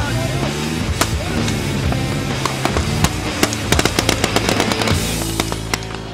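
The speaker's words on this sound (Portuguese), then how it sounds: "Com o tiroteio ainda a decorrer" Gunfire rings out during a shootout in Kandahar, Afghanistan, with sharp cracks and bursts in irregular rapid succession over a loud, constant background rumble.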